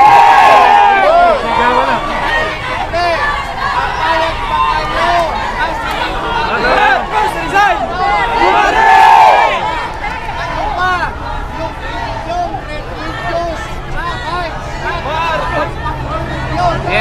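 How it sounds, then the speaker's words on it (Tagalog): A large crowd of supporters shouts and cheers continuously outdoors around a rally for Vice President Sara Duterte, including people on rooftops, a dense loud roar of many voices with swelling bursts throughout. "nagsisigawan na po pati doon sa tuktok mga kababayan"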